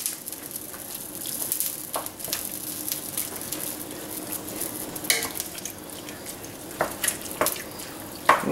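Two pounds of drained ground meat stirred around in a pot of chili with beans, a steady low sizzle with scattered spoon scrapes against the pot, close and moderately loud throughout.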